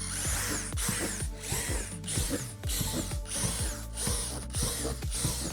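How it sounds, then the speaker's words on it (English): A power drill bores holes in a plastic playset deck panel, running in a series of loud, close bursts with brief gaps between them. "You'll also drill the holes on this deck panel."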